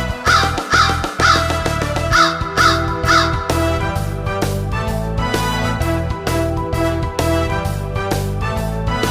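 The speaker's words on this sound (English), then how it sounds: "Big black crow, you're a noisy bird." A black crow caws several times in quick succession over a steady, rhythmic music track, with the loud calls standing out most clearly in the first few seconds.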